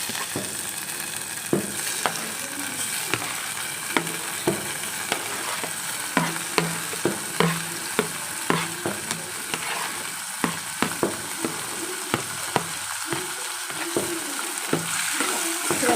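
Tomatoes frying in a pan while being stirred, a steady close sizzle punctuated by frequent sharp scrapes and clinks of a spoon against the pan.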